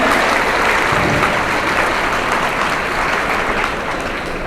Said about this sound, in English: How about another round of applause for Greg?